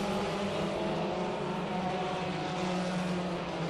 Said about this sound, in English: 5 laps to go as DeBoer continues to lead the way